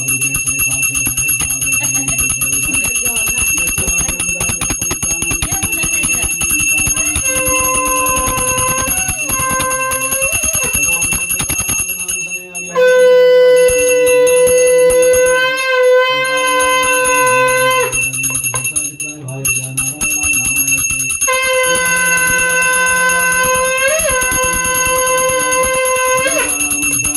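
A conch shell is blown loudly in long, sustained blasts at a Hindu Satyanarayan katha during a mundan ceremony, its steady tones rising over continuous, close ringing of bells.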